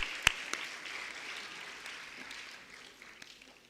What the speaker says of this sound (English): can you please join me in giving all of your parents a very well-deserved round of applause